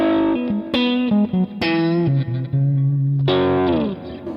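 Electric guitar riff through effects, switching between clean warm Fender-style notes and distorted, chorused bursts, with bright sliding phrases and short gaps, loud and close with no voices.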